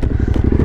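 Motorcycle engine running, on a road trip through Kazakhstan: a close, loud, rapid rhythmic engine putter in a very short burst, with no talking.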